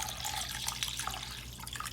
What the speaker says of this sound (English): So what I'm going to do now is pour some water.